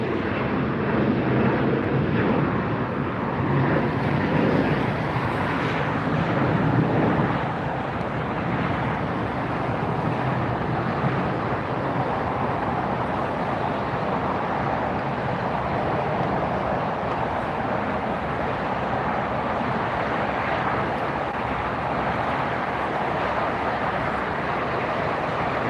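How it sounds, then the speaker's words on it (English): A Lufthansa Airbus A380-800 jet arriving at LAX from Munich, its broad, loud engine roar rumbling steadily throughout with no talk. "This is the Lufthansa A380 800 coming in from Munich, flight 452, arriving now"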